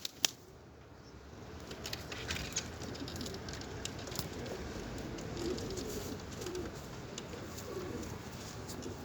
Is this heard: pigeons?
yes